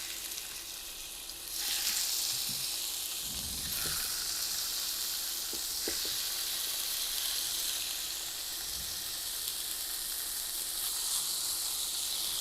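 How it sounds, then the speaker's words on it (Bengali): Fish pieces for a potato fish kabab fry in a small amount of oil, giving a steady, close, soft sizzle with faint crackles and occasional stirring or utensil taps. "এখন মাছগুলো ভেজে নেব"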